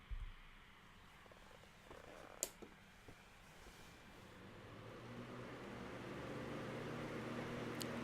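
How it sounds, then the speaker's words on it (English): A fan running in the background of a quiet room, a faint steady hiss and low hum that grows slightly louder, with a couple of small clicks and no one talking. "There's our fan in the background."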